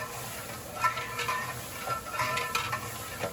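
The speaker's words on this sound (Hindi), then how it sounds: "यहाँ पे हमने चिकन को फ्राई करना है इस घी में" Chicken fries in ghee in a large biryani pot for a big party batch, with a steady sizzle and repeated scraping stir strokes and metal clinks of the ladle against the pot.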